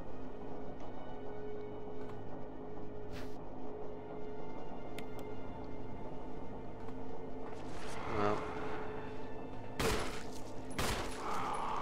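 Gunfire in the video game Resident Evil HD Remaster, a few sharp shots standing out over a low, steady game soundscape, with the loudest bursts near the end.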